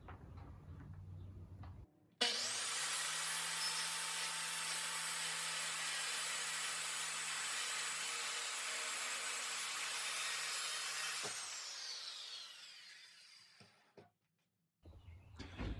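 A power saw cuts through a cedar board for shutters, starting abruptly with a loud steady whine that holds for about nine seconds, then winds down as the blade spins to a stop, followed by quiet handling noises.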